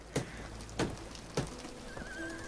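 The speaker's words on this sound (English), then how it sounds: "It is raining." Rain falls steadily in the Victorian London streets of the video game Sherlock Holmes: The Awakened, a soft continuous patter broken by a few sharp, louder thuds and a faint tone.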